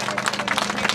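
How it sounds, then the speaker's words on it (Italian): A crowd at a street vendors' union rally in a city square claps in a brief, brisk burst of scattered hand claps, with voices mixed in. "un applauso, dai, un applauso anche alle colleghe"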